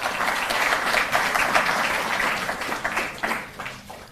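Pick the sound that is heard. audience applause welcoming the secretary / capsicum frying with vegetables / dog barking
audience applause welcoming the secretary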